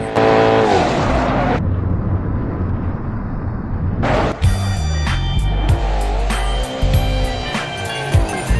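Ford Mustang overtaking a truck: loud continuous engine and road roar that drops away briefly, then returns with revving tones and sweeping pitch as the car passes; no speech.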